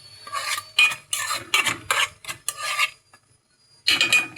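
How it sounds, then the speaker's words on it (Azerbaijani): Fat melting in a pan while being stirred, heard as a run of close, scraping and rasping strokes of a utensil against the pan with short pauses and a longer gap before the last stroke. "Karışdırıb artıq yağ əriyir."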